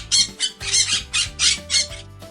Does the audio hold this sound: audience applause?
no